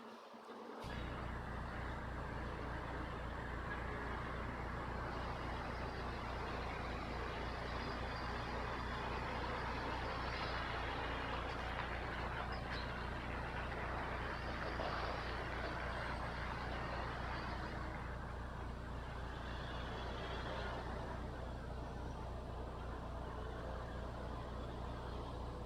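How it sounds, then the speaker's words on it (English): A truck drives by on a road with a steady, continuous engine drone and tire roar that stays fairly constant and moderately distant throughout. "Oh, check out this truck."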